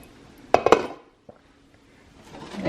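A pot of rice is lifted off a stove burner and set down, a short cluster of loud metallic clanks and scrapes followed by a single softer clink, then quiet.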